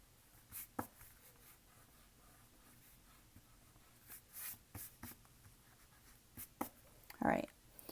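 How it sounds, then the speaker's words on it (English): A pencil eraser scrubs across paper over lines of a drawing, short bursts of rubbing scattered through a quiet room, a few louder strokes near the end. "I'm going to erase some of these lines."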